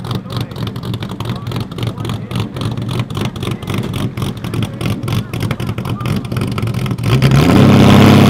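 A tracked Ford Mustang GT350 race car at a Gridlife Midwest event: loud engine rumble with rapid pulsing and revving that swells into a heavier roar at the end, with speech mixed in.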